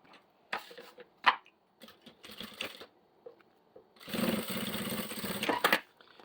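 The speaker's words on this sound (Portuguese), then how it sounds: "vou passar uma costurinha de segurança bem na beiradinha" A sewing machine runs a safety seam along the edge of a fabric toothbrush holder, with a few short handling clicks first and then one steady, close burst of stitching lasting about two seconds.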